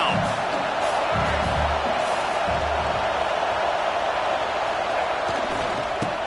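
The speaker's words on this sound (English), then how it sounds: "This crowd knows this defense needs them right now." A UCLA versus Clemson college football stadium crowd roars for the defense, a dense, steady wall of cheering from thousands of fans with a few sharp thuds and faint voices buried inside.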